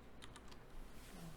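Computer keyboard keys pressed for a Ctrl Shift C shortcut, a few quick soft clicks close by over a faint background hum.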